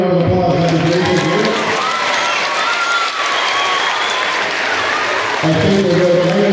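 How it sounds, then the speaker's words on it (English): A crowd applauds after a first grade winter concert at a school, loud sustained clapping with some cheering, briefly overlapping an adult voice on a microphone at the start and end. "Can we get another round of applause"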